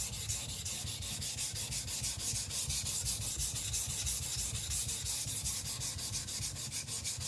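A Zwilling petty knife is thinned and sharpened on a coarse whetstone, a continuous gritty rasping scrape in steady rapid back-and-forth strokes, close and fairly quiet, with no voices.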